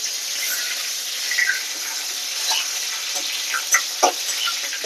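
Dried chilli and a bay leaf sizzle as they fry in hot oil, a steady bright hiss with scattered small pops and crackles throughout, fairly close and unaccompanied by talk.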